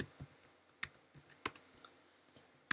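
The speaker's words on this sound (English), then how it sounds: "so if I go ahead and type in table" Quiet, irregular key clicks from typing on a computer keyboard while writing Python code, about a dozen sharp taps close by over a few seconds, with no talk.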